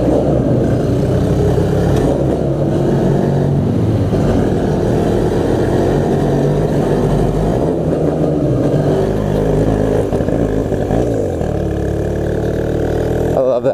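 A Honda Rebel motorcycle converted into a dirtbike is ridden slowly, its engine droning loudly and continuously with shifting revs throughout.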